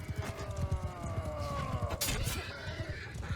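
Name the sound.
cavalry horses charging in a video game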